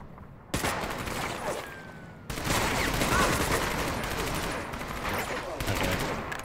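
Gunfire in the video game Medal of Honor: Vanguard: dense bursts of rifle and machine-gun shots crackle in rapid volleys, loud and close, with a short pause before the shooting resumes heavier.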